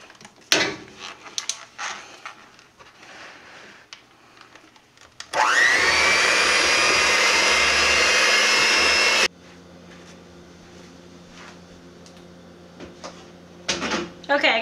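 An electric mixer runs loud and steady for about four seconds as flour mixture is worked into donut dough, between quieter kitchen clatter and faint background hum.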